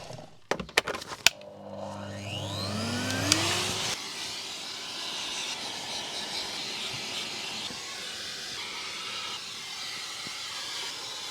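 A few clicks, then a vacuum motor whines up and settles into a steady loud roar, running close and continuously while vacuuming a Rolls-Royce's interior carpets.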